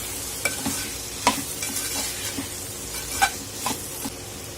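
Vegetables sautéed with salt in a pan for a Solapur-style monsoon bhaji of radish pods, with a steady sizzle broken by irregular scraping stirs and a few sharper spatula knocks, close and alone without talk.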